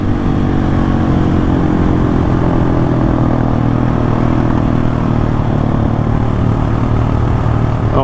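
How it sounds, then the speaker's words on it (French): Husqvarna 701 single-cylinder motorcycle exhaust droning loud and steady, a continuous close engine note with low harmonic bands holding throughout and no speech. "Alors le pot il fait du bruit"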